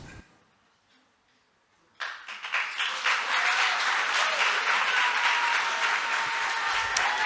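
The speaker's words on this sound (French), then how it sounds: "Vous pouvez effectivement les applaudir." After about two seconds of near silence, an audience at a heritage workshop session bursts into sustained applause for the participants, dense, steady clapping that fills the room to the end.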